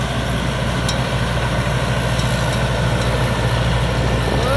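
A 260-horsepower combine harvester engine at full throttle gives a steady, loud, heavy diesel drone that holds level throughout, with a faint mechanical whine on top and no one speaking.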